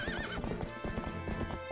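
A horse ridden in Zelda: Twilight Princess on Wii U trots with quick, rhythmic clip-clop hoofbeats while whinnying over game music.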